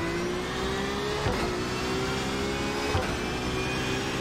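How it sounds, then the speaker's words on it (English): In the iRacing sim, a Porsche 911 RSR at Spa drones along with a steady, faint engine whine, with two brief gear-shift dips as the pitch drops and climbs again. "You can hear there's a problem with the engine, it's rattling around."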